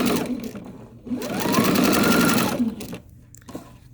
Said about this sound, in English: And just keep on sewing.